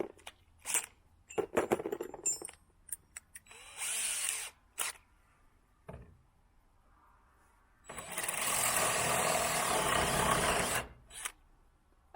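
A power drill with a paddle bit bores into plywood in several bursts: short stuttering starts, then a long, loud sustained drilling run near the end, with quiet gaps between.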